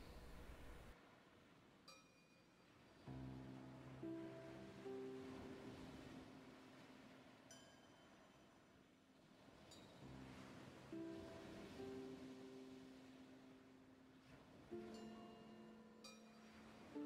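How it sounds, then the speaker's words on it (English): Ambient ocean waves for a fantasy cave scene by the sea, a continuous soft wash of surf swelling and receding, with a faint musical tone drifting through the background. "our ambience tries to convey that sound of the waves"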